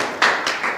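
A darts crowd applauds at a Pro Tour event, a brief burst of claps from many hands that swells and fades over a moment.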